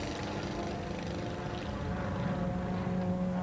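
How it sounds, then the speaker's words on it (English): Formula V racing airplanes circling an air race course at Albuquerque, New Mexico, a continuous droning propeller engine hum, fairly distant and steady with a slight rise in pitch. "The airplanes sort themselves out around the first turn."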